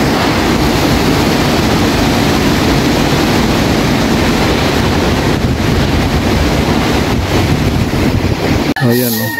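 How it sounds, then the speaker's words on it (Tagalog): Strong, roaring typhoon wind buffets the microphone continuously, a loud rushing gust that barely lets up before cutting off abruptly near the end. "Grabe ang langas ng hangin, no?"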